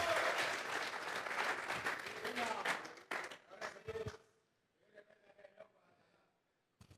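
A church congregation breaks into loud applause as an offering of palms, dense clapping that stops abruptly partway through, followed by a few scattered claps and quiet murmuring.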